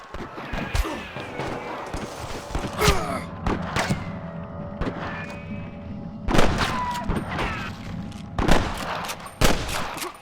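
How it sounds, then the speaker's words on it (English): Red Dead Redemption gunfire pops in scattered bursts of single shots and volleys, punchy thuds mixed with whooshes and effects, a busy battle soundscape. "I can hear more gunshots."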